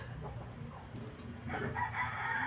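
A rooster crows from some distance, a rising drawn-out call in the second half, over a low background hum and faint clucking.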